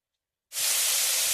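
Ground tomato paste hits hot mustard oil with a sudden loud sizzle that bursts in and keeps hissing steadily and close, with no talking.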